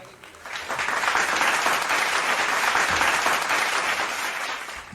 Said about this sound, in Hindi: क्लास 7 की सभी गर्ल्स के लिए एक बार ज़ोरदार तालियां प्लीज़